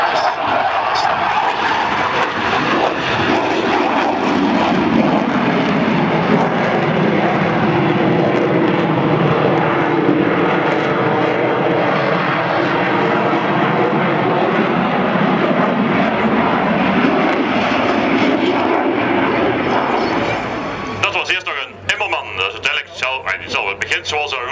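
Military jet flying past at the Sanicole Airshow in Belgium, refueling probe out and wheels down, a loud sustained roar sweeping through in a rising-and-falling Doppler arc before fading, with an announcer talking over it.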